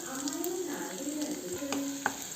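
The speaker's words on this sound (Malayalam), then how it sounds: "ഇപ്പോൾ പാൻ ചൂടായപ്പോൾ ഓയിൽ ഒഴിച്ചെടുത്തിട്ടുണ്ട് അതിലേക്ക് വെളുത്തുള്ളി ഇഞ്ചിയും പൊടിയായിട്ട് അരിഞ്ഞിട്ട്" Finely chopped garlic and ginger sizzle in hot oil in a pan, a steady close crackling hiss that runs throughout with a faint voice in the background.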